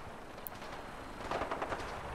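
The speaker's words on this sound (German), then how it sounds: "Da wird geschossen." Gunfire rings out somewhere in a Fallout 4 battle at Bunker Hill, a faint spatter of distant shots that grows into a quick cluster of bursts near the end.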